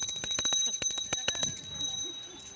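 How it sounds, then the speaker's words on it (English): A bell rung to start a charity duck derby race, struck in a quick run of bright, ringing strokes for about a second and a half, then fading into outdoor crowd murmur. "Are you ready to ring the bell?"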